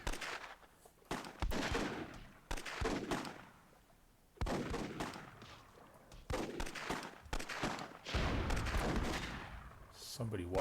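Grenade blasts in the fantasy strategy game Myth II: Soulblighter, a run of sharp, loud explosive bursts with crackling tails repeating every second or two, with voices faintly underneath.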